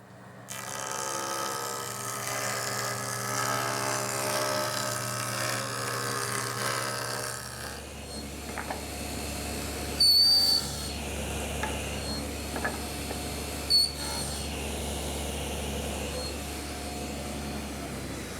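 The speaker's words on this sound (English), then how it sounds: "I've set the joiner up to remove about 1/32 of an inch at a pass" Woodworking jointer taking light passes of about 1/32 inch on wood slats for a Mission-style sofa, a loud steady machine whine and cutter roar that drops to a low motor hum, with a few brief knocks and clicks.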